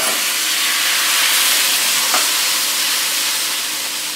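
Rava dosa batter hissing and sizzling steadily on a greased hot tawa with onions, a continuous close, bright frying noise with no talk.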